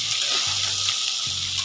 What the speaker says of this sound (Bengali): পাস্তাটাকে এখন ভালো করে ভেজে নেবো